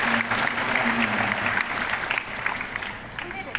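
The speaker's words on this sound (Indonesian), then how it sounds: "Tepuk tangan untuk lulusan sarjana kedokteran" Crowd applause at a university graduation ceremony for the first graduating class of medical degree holders, a dense steady wash of many hands clapping throughout, with some voices mixed in beneath.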